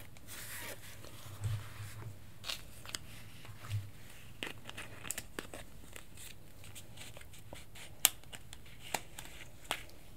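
Scissors cutting hair up close in a quiet room, with a scattering of soft, sharp snips and small clicks spread unevenly over about ten seconds.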